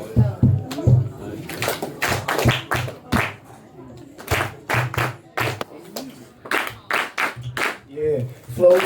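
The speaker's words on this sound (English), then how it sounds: "can y'all do me a little favor and just a little audience participation clap for me" An audience at a live hip-hop performance claps along, sharp hand claps landing in a loose repeating rhythm over and between a man's speech.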